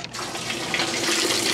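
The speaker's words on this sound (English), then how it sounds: "So now we have water going in." Whirlpool washing machine filling with cold water on the rinse setting, a steady close rush of water pouring into the tub, continuous with no voices.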